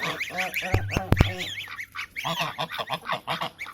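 A broody goose honks repeatedly in harsh, nasal bursts close by, with a couple of sharp knocks early on and more honking calls following in quick succession.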